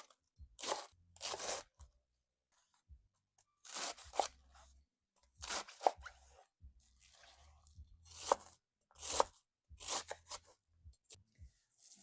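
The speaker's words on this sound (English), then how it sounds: "Now we're gonna chop the cabbage. We cut it off and we chop them." A knife chops through fresh cabbage on a board in short bursts of crisp, crunchy cuts, with quiet pauses between them. Close-up, with no voices.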